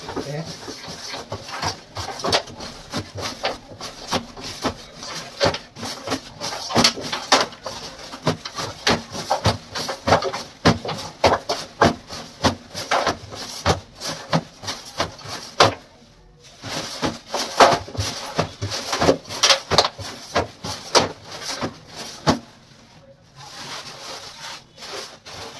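A brush scrubs a pure silk saree during dry cleaning, making a rapid series of dry, rhythmic scratching strokes close by, with two short pauses partway through.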